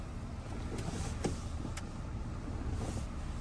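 A Maruti Suzuki Victoris SUV rolling slowly and steadily over an off-road articulation course, with a low, even engine and road rumble and a few brief clicks and creaks from the cabin.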